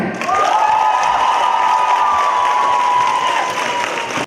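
A large concert audience applauds and cheers loudly and continuously as a singer takes the stage, with a shrill whoop rising above the clapping before it fades at the end.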